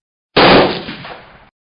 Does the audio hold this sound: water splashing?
no